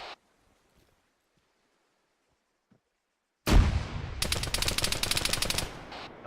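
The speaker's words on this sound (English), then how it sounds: "I'm gonna pop a frag over it." A frag grenade blasts in a video game with a sudden loud, close boom after near silence, followed by dense, rapid gunfire that keeps crackling to the end.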